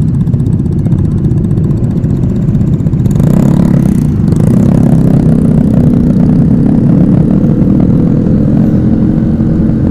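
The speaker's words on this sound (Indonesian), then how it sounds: "100 kayaknya lebih nih motor." Over a hundred motorcycles, many on 17-inch rims, ride together on a night community ride in Tasikmalaya, a continuous loud engine drone and rumble filling the whole stretch without talk.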